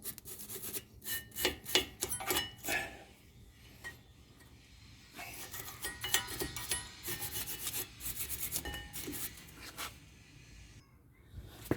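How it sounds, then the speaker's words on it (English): A small steel brush scrubs dirt off the brake parts of a 2011–2017 Toyota Sienna, giving close, repeated rasping strokes in uneven bursts with brief pauses between them. "You have to have a small steel brush like this one, and then remove all the dirt in there."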